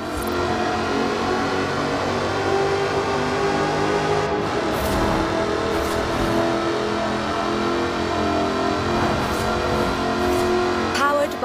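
Supercharged 5-litre V8 in an aluminium-bodied sports car from Forza Horizon 4, droning steadily and loudly throughout with a dense, sustained engine roar and no distinct gear shifts.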